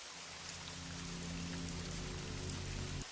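Steady, dense rain pours down in a continuous close wash with no pauses, alone and unbroken, with a low droning undertone beneath the patter.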